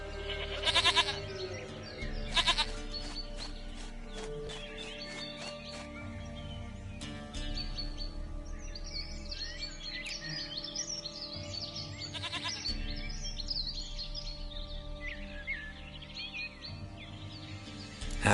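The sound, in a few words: goat bleating in The Witcher 3 video game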